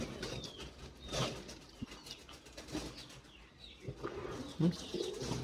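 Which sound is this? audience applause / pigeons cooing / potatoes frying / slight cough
pigeons cooing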